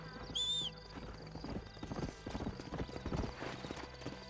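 A horse in the Red Dead Redemption video game gives a short high whinny, then its hooves clop in a rapid galloping rhythm, close and clear, while faint game sounds continue underneath.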